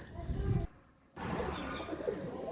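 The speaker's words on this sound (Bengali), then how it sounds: "আমাদের বাসায় অনেক কবুতরও আছে" Pigeons coo softly at a home rooftop, low murmuring calls heard faintly amid background noise from nearby construction work, with a brief quiet gap.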